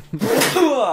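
A single loud sneeze close up, with a sharp intake of breath and then a forceful burst.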